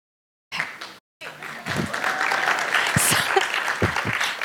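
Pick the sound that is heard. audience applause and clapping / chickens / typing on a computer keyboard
audience applause and clapping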